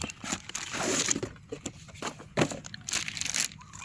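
Plastic bag crinkling and rustling as a remote control for an XK K120 6-channel brushless RC helicopter is unwrapped, with irregular close crackles and rustles throughout, no talk.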